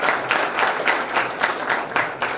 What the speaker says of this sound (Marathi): त्यांचं स्वागत आपण टाळ्या वाजवतो.